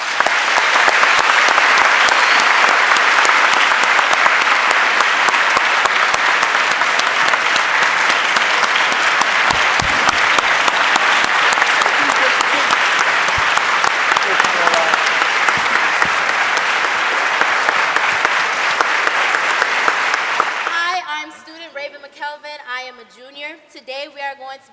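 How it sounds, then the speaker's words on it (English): A large audience at a Martin Luther King Jr. celebration ceremony gives a long, loud, dense round of applause that holds steady for about twenty seconds, then breaks off abruptly. "can you guys help me and give them a round of applause?"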